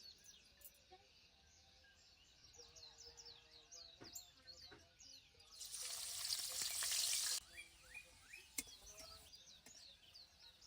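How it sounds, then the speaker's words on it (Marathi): Chopped onion sautés in oil left over from frying paneer for a dhaba-style paneer masala. A soft steady sizzle swells into a loud hiss for a second or two, then settles, while birds chirp throughout. "आता याच तेलामध्ये आपल्याला कांदा परतून घ्यायचा आहे."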